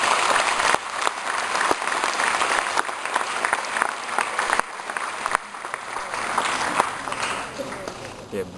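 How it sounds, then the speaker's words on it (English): A large audience at an IIT Kharagpur event applauds steadily for an arriving speaker, with sustained dense clapping and some crowd noise that continue for several seconds at a fairly even level. "Please give a big round of applause for Sir Suneet."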